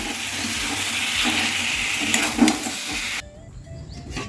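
Fried potatoes and meat drop into hot spiced oil, setting off a loud hiss and sizzle with a brief clatter, then the sizzle cuts off abruptly to a quieter background.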